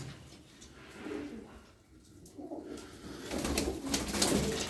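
Turkish fancy pigeons, including Çorum Çıplağı tumblers, coo softly in a loft, with a low, steady murmur of calls that swells toward the end, accompanied by faint rustling.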